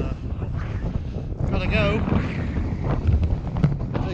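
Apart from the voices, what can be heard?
wind in the mountains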